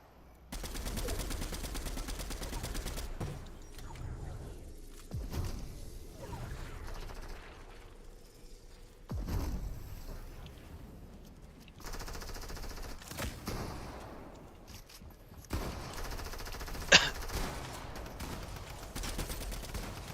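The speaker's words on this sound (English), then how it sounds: "Gosh, I love this gun." Bursts of automatic gunfire from a gun in a video game, rattling out repeatedly in rapid strings with short pauses between them, at a moderate level over a low background.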